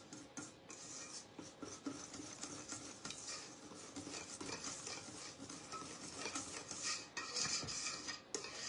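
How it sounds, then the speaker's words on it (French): Cake batter with flour being stirred in a bowl, producing soft repeated scraping and light clinks of utensil against dish, quiet and close with no talking. "Donc on continue à bien mélanger."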